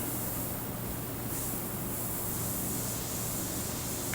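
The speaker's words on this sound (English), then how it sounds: "So let's get to spraying." Continuous hissing spray of an airbrush, steady and even, with no pauses or voices.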